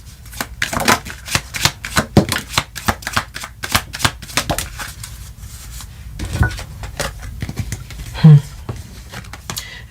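Tarot cards shuffled and drawn from a deck during a reading, a steady run of quick riffling and rubbing bursts at close range, with a soft low voice murmuring beneath.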